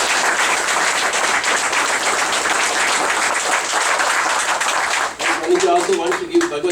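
An indoor audience at a spiritual gathering in Dallas breaks into sustained, dense clapping for several seconds, then it thins out and a voice takes over near the end.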